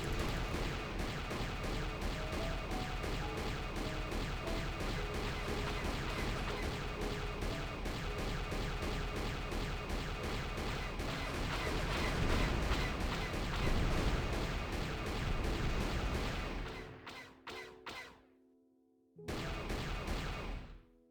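Gunfire and blasts aimed at incoming fighters in the video game Star Wars: Knights of the Old Republic, a dense, continuous barrage of shots that cuts out briefly near the end and then resumes.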